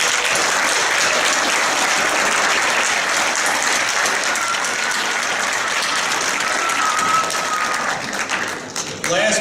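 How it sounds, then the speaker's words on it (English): Loud, sustained applause from a large crowd at a citizenship ceremony, dense clapping filling the room for several seconds before thinning out near the end. "How about a nice round of applause for officers at Masiac and Feta Place for the job they did."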